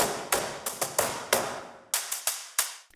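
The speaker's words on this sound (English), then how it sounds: "And then onto the small box brushes." Brushed strokes and soft taps on a small box drum, a loose rhythm of swishes and hits, close and clear with no voices.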